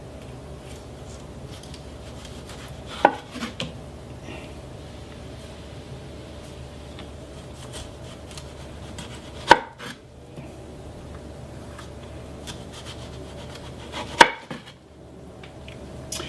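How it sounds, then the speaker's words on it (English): Ripe organic tomatoes sliced with a knife on a cutting board, three distinct sharp cuts spaced several seconds apart over a quiet low room hum. "let's see what these look like as we slice them here"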